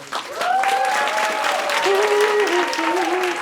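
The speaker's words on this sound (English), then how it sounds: "round of applause for this guy" A stand-up comedy audience in Bucharest claps and cheers loudly in a sustained burst, with a few voices calling out over the applause.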